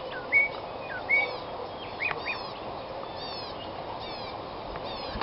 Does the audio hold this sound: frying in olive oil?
no